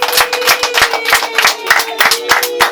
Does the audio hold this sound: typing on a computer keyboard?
no